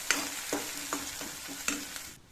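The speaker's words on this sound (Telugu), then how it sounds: "వేసుకొని ఇలా ఒక సెకండ్ పాటు ఫ్రై చేసుకోవాలి." Onion paste fries in oil with bay leaf and spices, a soft sizzle broken by about six rhythmic scraping stirs of a spoon against the pan, close and alone.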